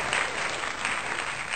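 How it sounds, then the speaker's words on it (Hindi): Loud, steady applause from an audience at a community gathering in Munsiyari, continuous clapping filling the whole short stretch with no voices. "तो एक बार जोरदार तालियां"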